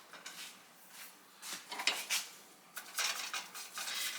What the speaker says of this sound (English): And then I'm gonna put the lid on it.